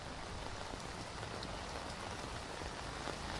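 Monsoon rain in Mumbai falls in a steady, dense hiss of drops striking surfaces, faint and even throughout with no voices.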